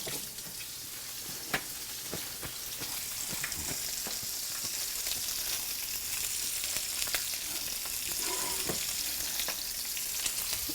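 Fish frying in a pan of hot oil, a steady loud sizzle with crackling pops and occasional spits throughout, close by and uninterrupted, with no voices present.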